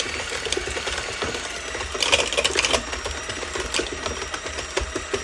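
An electric hand mixer whirs steadily through peanut butter pie filling in a bowl, a continuous close mechanical drone with slight rattling variation and no speech.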